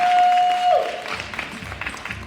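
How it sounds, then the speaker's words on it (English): Audience applause at a Liberian Girls Rock event in 2019, a short burst of clapping under a steady tone that fades out, ending with scattered claps. "So please give them a round of applause"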